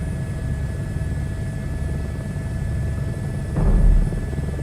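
Helicopter hovering in Microsoft Flight Simulator 2024, a steady low rotor and engine drone throughout with a brief louder swell near the end, no voices.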